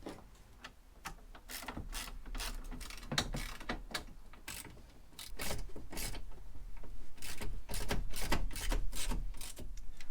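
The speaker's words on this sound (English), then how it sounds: "So to secure the seat to our new seat swivel, we have these hex fittings with the nylock nuts." Metal hex fittings with nylock nuts being tightened to secure a van seat onto a new seat swivel in a Sprinter, heard as a close series of sharp ratcheting clicks and metallic taps with scraping in between, no talking.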